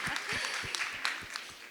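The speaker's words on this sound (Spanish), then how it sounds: "Aplauso." Panel audience applauding at a talk on the skills needed for current and future work: a steady, fairly quiet wash of clapping with faint soft thumps running through it, no voices over it.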